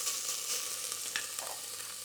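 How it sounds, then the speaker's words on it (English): Spice paste for Vietnamese beef stew sizzling in a little oil over medium heat, a steady soft crackle and hiss with occasional brief pops, heard alone at close range. "Enough to actually fry the paste well."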